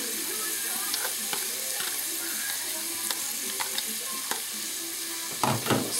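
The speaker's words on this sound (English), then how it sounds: "We can go ahead and add our veggies into it." Vegetables sizzle in melted butter in a pot, a steady soft frying hiss with occasional stirring clicks and a louder scrape near the end.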